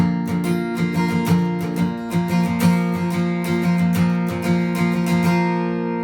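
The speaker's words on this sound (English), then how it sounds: "So adding the focus strumming makes it sound like this." Acoustic guitar strummed in a rhythmic groove with accented and lighter strokes mixed together, bright and close, played alone without talking.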